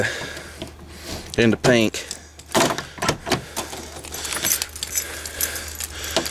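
A large bunch of many keys hooked together jangles and clinks loudly up close in freezing weather beside a wrecker and a broken-down truck, with people talking over the metallic rattling.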